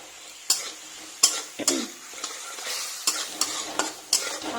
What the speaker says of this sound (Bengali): এখানে পটলের সবজির মশলাটা হচ্ছে